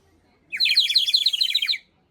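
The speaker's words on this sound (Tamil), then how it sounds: "குருவி சவுண்ட் மாதிரி கேட்குது" A short burst of bright, warbling chirps from a water whistle, trilling rapidly like birdsong for about a second, clear and close.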